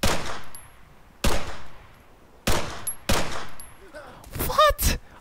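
Gunfire in the ARMA 3 video game: four sharp, loud single shots spaced about a second apart, each with a decaying tail. A burst of closer clatter and a brief whining tone follow at the end.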